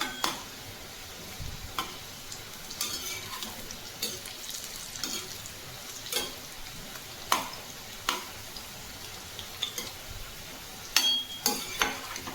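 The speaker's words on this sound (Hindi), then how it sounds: "यहाँ पर मैंने एक बार में ही सारे नाश्ते को फ्राई होने के लिए डाल दिया है।" Moringa leaf snacks fry in a pan with a low, steady sizzle, punctuated by scattered sharp clicks and scrapes as the pieces are flipped one by one.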